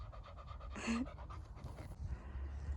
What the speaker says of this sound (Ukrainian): Щаслива моя собака. Язик заховай.